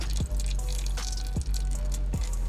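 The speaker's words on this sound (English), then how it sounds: "this is the one that you should be draining the most brake fluid out of" Brake fluid drains from the rear brake bleeder of a BMW M3 as a few soft, regular drips falling into a catch container, close by over a steady low hum, with no talk.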